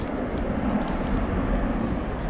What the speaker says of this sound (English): airplane taking off somewhere, guys